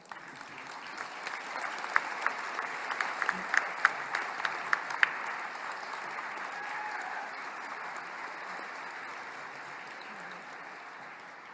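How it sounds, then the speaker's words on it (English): Applause rises from the audience at the AFN Special Chiefs Assembly, a sustained, moderately distant clapping from a large hall with a few sharper claps standing out early on. "I just want us to give them a round of applause."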